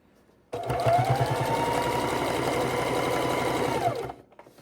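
A sewing machine stitches in the ditch along a quilt's binding, where the fabric meets the binding: one steady, close mechanical whir running about three and a half seconds, then stopping abruptly.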